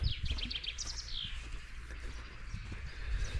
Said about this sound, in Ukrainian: Ай-яй, як пташечки співають.